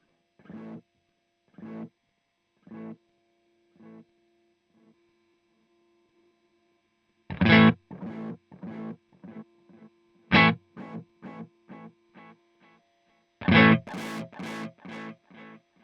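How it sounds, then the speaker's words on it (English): Short plucked guitar notes through the dirty delay setting of an IK Multimedia X-Time pedal, gritty and distorted, echoes repeating over a low steady hum, building into denser bursts of louder picking. "Moving on to dirty delay."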